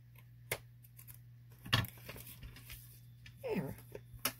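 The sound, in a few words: cutting off a piece of paper for a junk journal lap book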